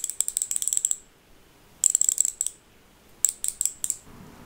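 BMX rear hub ratchet with doubled-up pawl springs, clicking in rapid bursts of sharp metallic ticks, three separate spins with short pauses between, close and clear.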